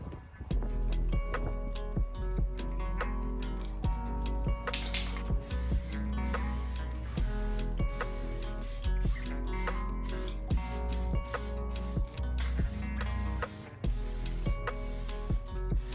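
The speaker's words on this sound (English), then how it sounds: "primed it with Kiehl's original formula in a can" Aerosol primer sprayed from a can onto a sanded IKEA Kallax shelf, with repeated short hissing bursts of spray in a steady rhythm, close and fairly loud, and no talking.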